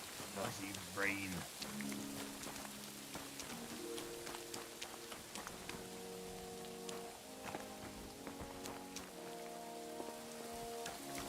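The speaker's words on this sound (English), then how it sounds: "Bloody rain." Steady rain patters on surfaces in the medieval video game Kingdom Come Deliverance 2, a constant soft hiss beneath sustained game music tones, with no clear talk.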